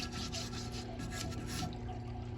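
Small machine parts being scrubbed in a parts cleaner: a steady wet rubbing and brushing under running solvent, continuous and fairly faint, close by with no talk.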